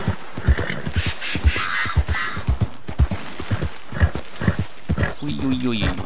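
A horse in the video game Red Dead Redemption 2 clip-clops through water with steady, rhythmic hoofbeats, a brief whinny toward the end, and someone speaking over the sounds.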